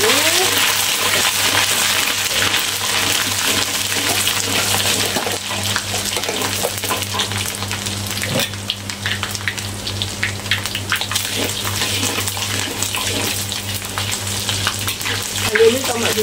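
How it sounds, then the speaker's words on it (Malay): Ginger dropped into hot oil in a wok fries with a loud, steady sizzle and crackle, with occasional stirring scrapes, while a fish dish with ginger is being cooked. "Minyak dah panas. Kemudian masukkan dia. Halia dulu."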